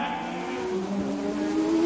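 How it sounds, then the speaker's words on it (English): A Formula One Ferrari race car locks up its tyres under hard braking, a rising tonal screech and engine whine building over nearly two seconds, with no voice over it. "Villeneuve stood on everything, locked up his tyres, got the line"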